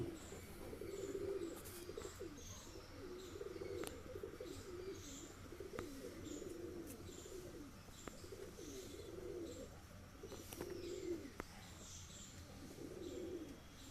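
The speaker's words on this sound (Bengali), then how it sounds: "এই ভিডিওটায় শুধুমাত্র ম্যাড্রাস পায়রা দেখাবো" Several pigeons coo in repeated low, rolling phrases, fairly quiet, with occasional sharp chirps and clicks in a calm setting.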